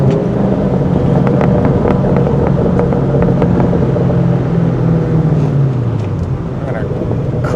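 A 2003 Ford Mustang Mach 1 engine drones steadily on a test drive, its pitch sagging near the end as the car slows, with wind rush and someone talking over it.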